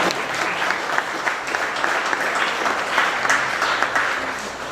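Audience applause fills a JROTC banquet, a steady wash of many hands clapping together for several seconds with no pause or break.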